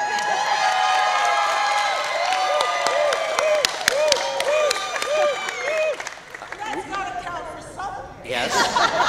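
Crowd applause and cheering at a dance competition: sustained clapping and whoops fill most of the stretch, with a shrill sustained cheer rising over it, then fading into chatter and a brief fresh burst of cheering at the end.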